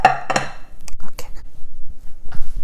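A knife chopping an onion on a cutting board, a few sharp, close knocks in an uneven rhythm with short pauses between cuts.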